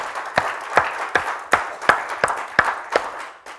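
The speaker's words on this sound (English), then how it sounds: "Give the Lord a hand clap this morning." A church congregation claps hands during a Sunday morning service, sharp claps landing in a loose, roughly steady rhythm about every third of a second, fairly close and moderately loud with a faint crowd murmur underneath.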